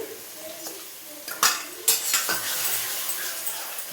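A spoon scrapes and clinks against a pan as a masala with yogurt, a little water and sugar is stirred and sautéed for a pea and egg omelette. Two sharper knocks stand out over a steady, soft sizzling hiss.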